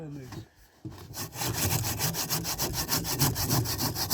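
A hand saw cuts through wooden planks during construction of a holiday lodge, its steady back-and-forth strokes rasping rhythmically and loudly close by after a brief pause.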